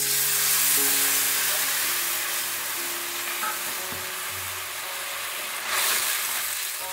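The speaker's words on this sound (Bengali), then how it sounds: "এবার আমি টমেটো পেস্টটা ঢেলে দিচ্ছি" Tomato paste goes into a hot pan and sizzles, a close steady frying hiss with faint clinks of stirring, the sizzle rising again briefly near the end.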